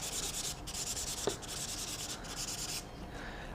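Close-up rhythmic scratchy rubbing of a fine 600–800 grit sanding stick on a hard surface of a 1/8 scale buggy part, several back-and-forth strokes, quiet and without talking.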